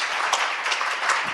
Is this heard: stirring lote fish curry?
no